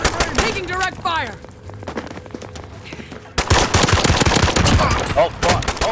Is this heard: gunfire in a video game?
yes